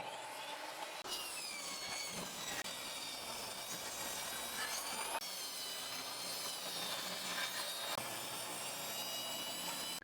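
A saw rips a 2x4 board lengthwise in a steady, loud, continuous whining roar that runs nearly unbroken for about ten seconds, close up with no talking.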